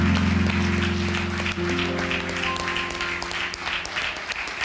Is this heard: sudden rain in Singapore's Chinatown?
no